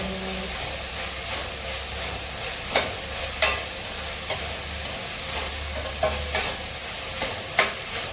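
Onions for a duck curry fry in a hot pan under a constant loud hiss, while a spoon scrapes and taps in irregular strokes that stand out above the sizzle.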